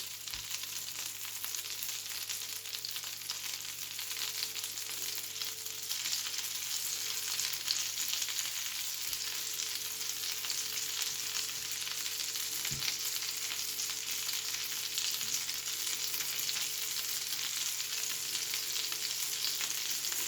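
Mutton gola kababs frying in a pan over a medium flame, a steady bright sizzle that continues evenly throughout, with an occasional soft knock.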